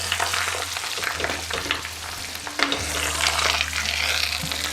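Duck browning in hot fat in a pan, a steady close sizzle and crackle running throughout with a low continuous hum underneath.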